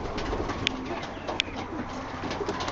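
Pigeons in a loft at feeding time coo softly and steadily, with a couple of sharper calls standing out above a continuous low hum of birds and rustling.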